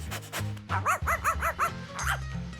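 A dog yipping in a quick run of short, bright barks, then one more after a pause, close by over a low background hum.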